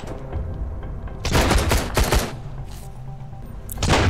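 Rifle gunfire in the Sunkenland survival game: loud, sharp bursts of shots in two clusters with a pause between them, then another burst at the end over a steady background hum, with no talking.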